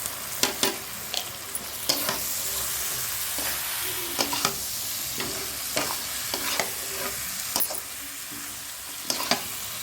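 Duck meat frying in a pan with chili powder, stirred steadily: a constant loud sizzle broken by repeated scraping strokes of the spoon at an irregular rhythm, with no talk.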